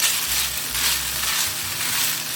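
Bean sprouts and scallions stir-fry in a pan with vegetables for spring rolls, producing a loud, close, steady sizzle with a faint low hum beneath and no voices.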